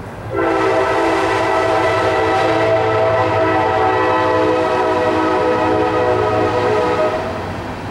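An Illinois Central westbound train rolls past close by, its horn sounding in long, steady chords over a continuous low rumble of cars that holds for the whole stretch, with no talking.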